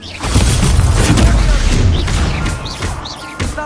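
The Expulso spell goes off in Hogwarts Legacy with a loud, booming explosive burst and rumbling crash, followed by fainter whooshing spell effects and brief game voice exclamations.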